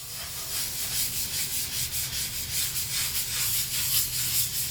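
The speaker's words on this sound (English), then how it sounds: "Physically rubbing on finish to reveal the grain also makes me feel some type of way" Finish is rubbed by hand onto a wooden guitar stand, giving a continuous close, breathy swishing with rhythmic strokes that swell and fade steadily, no voices present.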